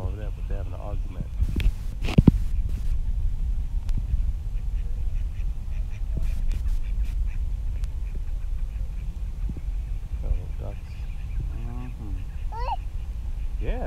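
Ducks quack intermittently at a city zoo pond alongside turtles, the calls fairly close but modest in level, heard over a constant outdoor background with a few sharp knocks.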